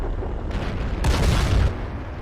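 A WZ-120 tank's main gun fires in an online tank battle game, one loud, heavy boom lasting about half a second amid steady background game noise.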